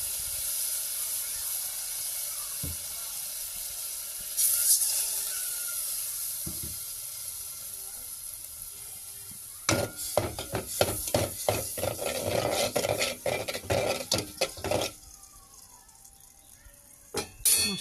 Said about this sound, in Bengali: মশলাগুলো কষানো হয়ে যাক